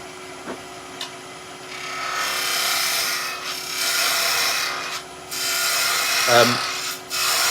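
Spindle gouge cuts wood on a lathe while Christmas trees are turned, a steady scraping, rubbing cut in several sustained passes with short pauses and a few sharp taps between.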